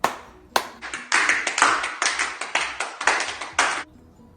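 Harder group hand clapping at a children's church session mimicking heavier rain, two sharp opening claps followed by a rapid, pulsing patter of many hands that stays loud and dense before cutting off.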